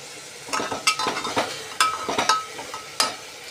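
Soybean and potato are stirred in a pressure cooker, with a spoon scraping and clinking against the metal in quick irregular strokes over a soft frying sizzle.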